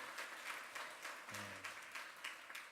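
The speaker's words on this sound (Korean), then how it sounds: "박수로 축복해 주시기 바랍니다" A church congregation applauds during a Korean Sunday service, faint, distant and sparse clapping with a loose rhythm under a low hum.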